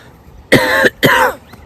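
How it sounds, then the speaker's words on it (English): Two harsh, close coughs in quick succession, loud and rough, with a quiet pause before and between them. "Still got a bit of cough."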